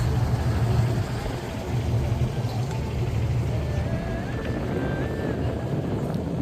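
Low, steady drone of a tourist boat engine in Thailand running throughout, with wind buffeting the microphone and faint higher tones drifting in and out.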